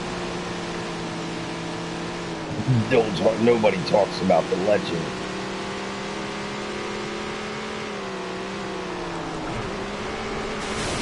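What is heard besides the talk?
race car engine in Tony Stewart's All American Racing video game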